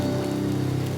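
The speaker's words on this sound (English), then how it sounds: "Heavy raindrops pour down, turning every surface into a small stream." Heavy rain pouring down in the video game Demonheart, a dense, even hiss of raindrops striking surfaces with a steady low hum beneath, constant and close.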